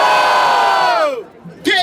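A crowd at a rap battle in Barueri, SP, roars and cheers for the DJ in a loud, brief burst that trails off, then swells again at the end.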